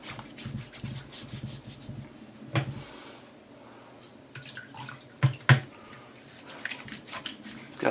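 Hands rub soapy lather onto a face with soft, wet, continuous friction, punctuated by a few louder squishy pats and dabs.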